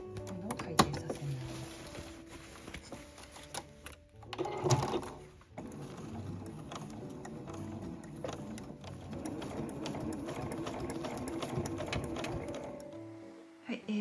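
A household sewing machine stitches a zippered canvas two-way tote bag, running in steady stretches with a brief pause and shift partway through as the fabric is turned, then continuing at a moderate, close level.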